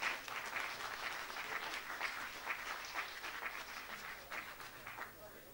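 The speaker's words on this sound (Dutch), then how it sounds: "En een applaus voor de aftocht van de genomineerden." An indoor audience at a community awards evening gives sustained, fairly distant applause as the nominees leave the stage, a dense even patter with a slight fade at the end.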